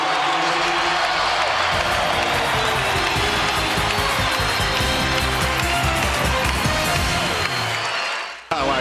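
Inside a packed NBA basketball arena during a Lakers game, a standing crowd roars and cheers in a dense, steady wash of noise that holds loud throughout, then drops off abruptly at the very end.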